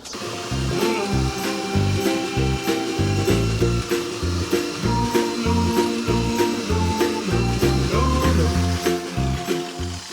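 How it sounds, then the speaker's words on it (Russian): An electric drill fitted with a construction-mortar mixing paddle churns apricots into a smooth puree, a loud continuous motor whine with rough, pulsing low-end chopping and sloshing throughout, close and steady with no talk. "с помощью дрели и венчика для приготовления строительных смесей делаем однообразную кашицу из абрикоса"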